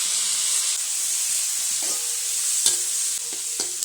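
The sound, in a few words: coconut pieces frying and stirred in pan for Kerala duck curry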